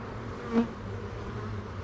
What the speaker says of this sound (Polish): Jest tak gęsto pszczoły, że nie jestem w stanie za bardzo do komórek zerknąć.